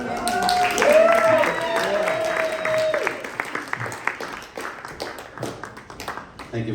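An audience applauds at an author mixer event in El Paso. A voice speaks over music for the first few seconds, then a broad, irregular burst of clapping fills the room and continues to the end.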